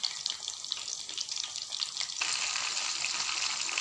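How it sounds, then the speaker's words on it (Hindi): Fish frying in a pan gives a steady, quiet sizzle and crackle that runs throughout with no talking, growing slightly denser partway through. "अभी और फ्राई हो रही है"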